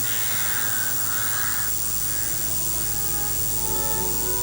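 Crows caw harshly in repeated calls that fade in and out over a constant loud background hum, with no voices present.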